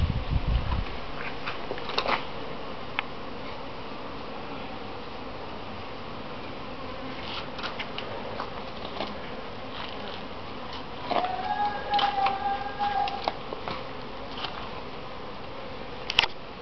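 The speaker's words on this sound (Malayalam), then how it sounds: "ചെമ്പകം പഴയതായി അത് വെട്ടാനായിട്ടുള്ള ഒരുക്കത്തിലാണ്. അപ്പോൾ അതിനു മുമ്പ് തേനീച്ചകളെ രക്ഷപ്പെടുത്താൻ വേണ്ടിയിട്ടാണ്" Honeybees buzz around a hive being opened in an old champak tree in Kerala during honey extraction, a steady close drone with scattered clicks and knocks from handling the frames.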